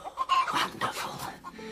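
Hens clucking inside a hen house, a close, continuous run of short clucks and cackles overlapping one another for under two seconds, with no talk.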